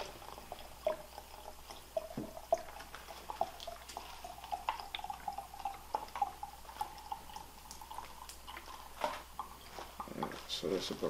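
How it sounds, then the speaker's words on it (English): High-potency liquor is poured into a 32-ounce jar of herbs, giving a gurgling, dripping trickle that rises gradually as the jar fills, heard under a person talking. "So I'm just going to fill this up because you want to make sure that, you know, the herbs are covered."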